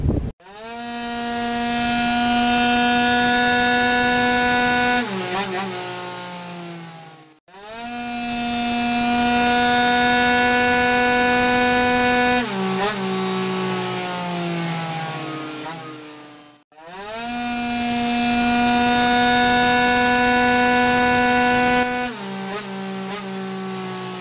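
A 100cc two-stroke scooter engine with an FL-R cylinder, fitted with an inertia plate on a dyno, screams through three long full-throttle runs, each climbing to a high buzzing wail before cutting off abruptly and burbling down.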